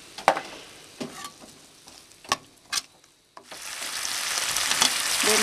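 A few light stirring taps in a pan, then a loud, steady sizzle once a sauce of oyster sauce, cooking wine and lemon juice goes in for swordfish steak; nobody speaks.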